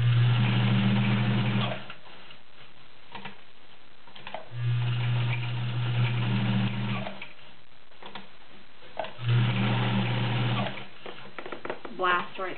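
A vintage Kenmore model 1207 sewing machine stitches through six layers of denim in three steady, droning runs separated by short pauses, with a person talking during the gaps and over the motor.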